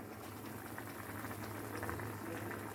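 Chicken and vegetable brown stew simmering in a partly covered pot, a steady soft bubbling and low burble that stays even and fairly quiet throughout, with no voices.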